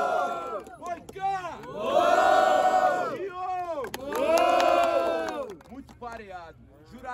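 A crowd at a rap battle roars and shouts in two big surging waves, with whoops and yells rising and falling between them.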